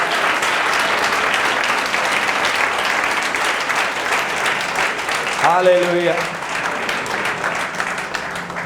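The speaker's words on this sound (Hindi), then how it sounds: "जोर से ताली बजाओ, प्रभु का धन्यवाद करो" Church congregation clapping loudly at a Good Friday service, dense continuous applause throughout, with a voice briefly calling out over it midway.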